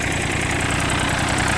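An Iseki TU257 compact tractor engine idles steadily close by, a dense, even diesel chug with a fine knocking rhythm running throughout and no speech.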